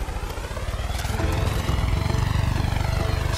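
Helicopter flying in the video game Far Cry 5, a loud throbbing rotor chop with rapid rhythmic pulses that grow slightly stronger as it passes near, with no talking.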